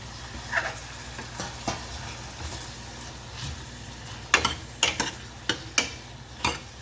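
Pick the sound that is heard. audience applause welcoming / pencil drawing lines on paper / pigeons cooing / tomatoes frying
tomatoes frying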